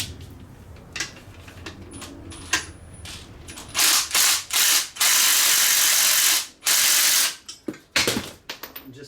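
A wheel stud pressed out of an aluminum hub on an R32 Skyline, with a run of sharp metallic clicks and ratcheting bursts that grow louder and denser into several loud cracks and pops.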